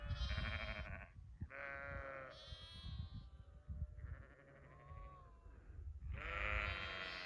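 Several sheep bleat loudly and close by in a lambing paddock along a hiking trail, calls overlapping in bursts with short gaps between them.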